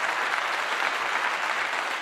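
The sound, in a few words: hand clapping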